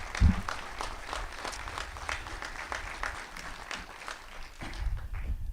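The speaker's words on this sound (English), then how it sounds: "So want to give them a round of applause for serving our district." A high school graduation audience gives a steady round of applause, many hands clapping together at moderate loudness. It carries on evenly for several seconds with a few louder thumps at the start and end.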